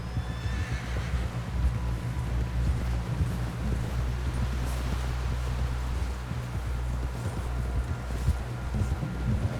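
Horse hooves clip-clop steadily over a low, continuous rumble of wind and rustling in Red Dead Redemption 2, with an occasional whinny; no one talks.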